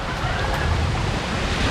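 Sea waves wash onto Torres Beach in a steady, loud, rushing roar mixed with gusty wind buffeting the microphone, continuous throughout with no clear breaks.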